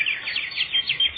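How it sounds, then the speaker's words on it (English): Birds chirping, a rapid series of bright, high tweets repeating in quick rhythmic bursts, close and clear with no talk over them. "Well, the birds is going about their business all right."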